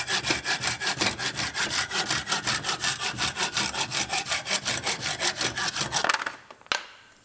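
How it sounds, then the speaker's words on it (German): A hand pruning saw meant for cutting branches works through wood in fast, steady back-and-forth strokes, loud and close, about two dozen rasping strokes before it stops with a final clack. "Und ich benutze mal unsere neue Säge hier, die wir eigentlich zum Astabsägen benutzen."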